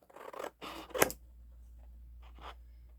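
Scissors snipping paper pieces during a scrapbooking craft session, a few quick close cuts with a sharp snap near the middle and a softer snip after, otherwise quiet.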